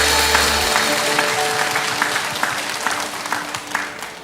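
A church congregation claps for each other as a blessing during a Sunday service, a dense crowd applause that stays loud throughout, with a soft sustained keyboard tone beneath.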